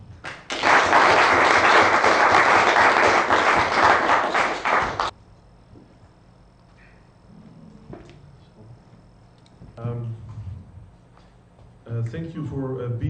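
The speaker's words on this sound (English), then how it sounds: "Then I ask you to give Pavel a big applause." Loud, dense applause from a conference audience after a talk on Stellar as a Bitcoin alternative, filling the first five seconds and then cutting off, followed by quieter room noise and a speaking voice.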